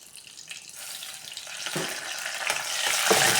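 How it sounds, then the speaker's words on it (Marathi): Cumin seeds and curry leaves crackling in hot oil, the sizzle building steadily louder with sharp spitting bursts, close and without talk. "तेल गरम झालं की टाकूया जिरी. 1/2 चमचा जिरी टाकायची छोट्या चमच्याने. टाकूया कढीपत्ता."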